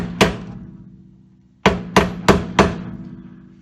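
Hammer strikes flattening the bent metal of a brake backing plate on a 1965 Chevy II, one sharp ringing blow followed after a pause by four more in a quick, evenly spaced run, loud and close, with no talking.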